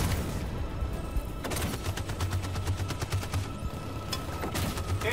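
Sustained covering gunfire from the video game Detroit: Become Human, with a dense rattle of rapid automatic shots and bursts running continuously under a low rumble, loud and close throughout.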